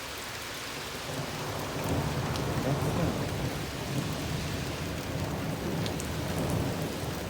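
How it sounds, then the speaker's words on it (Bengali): Steady rain falls in Italy in April, a loud continuous hiss over a low rolling rumble of thunder, with one brief spoken word. "বৃষ্টি হচ্ছে ইতালিতে।"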